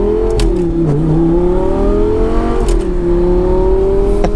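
Audi R8 fitted with a new aftermarket exhaust, droning close and loud with a steady whirring tone that dips and climbs as it is revved.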